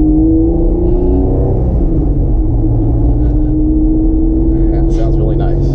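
A sports car with headers and a custom exhaust rumbles and revs loudly nearby, its deep exhaust note rising and falling, with people talking over it.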